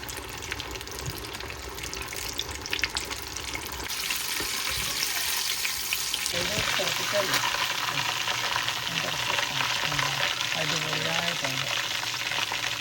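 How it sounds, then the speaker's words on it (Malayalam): Pieces of KFC-style chicken deep fry in hot oil, a dense, steady sizzle that swells louder partway through and continues evenly to the end with no talking. "ഈ ഒരു രീതിയിൽ നമുക്ക് വറുത്തെടുക്കാം."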